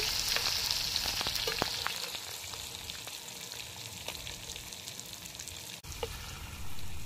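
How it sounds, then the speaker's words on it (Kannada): Croaker fish frying Mangalore style in a pan, a steady close sizzle crackling throughout with scattered pops and spits, alone without voices. "light fry ಆತಂಡು"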